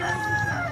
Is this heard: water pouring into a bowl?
no